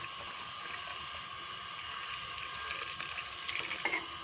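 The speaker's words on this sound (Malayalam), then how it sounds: "1-ാം പാൽ ചേർത്ത് കൊടുക്കാം." First coconut milk poured into a simmering okra and tomato mappas curry gives a faint, continuous liquid rush and bubbling, with a few small splashy clinks toward the end.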